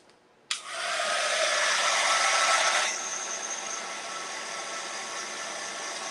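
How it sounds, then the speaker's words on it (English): An electric heat drying tool used for crafts switches on with a sharp click, then roars with a loud steady airy whoosh that drops to a lower, even blow partway through. No one speaks. "Plug in my drying tool."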